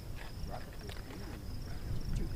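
Crickets chirp faintly at a Montana dinosaur dig bonebed, a thin steady high trill running under outdoor ambience with scattered wind and distant rustle.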